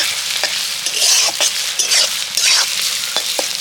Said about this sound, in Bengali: আদা রসুন বাটাটা দিয়ে ভালো করে একটু আবারও পেঁয়াজের সাথে ভেজে নেব।